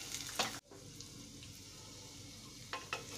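Soybeans and peas hit a hot pan and fry, giving a faint crackling sizzle with short bursts of stirring and a brief clatter partway through.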